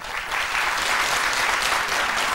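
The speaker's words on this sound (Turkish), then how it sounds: "Bir numaranın alkışları." A studio audience on a Turkish television show claps for the first dancer in a contest, a dense, even wash of many hands held at a steady level throughout the short burst.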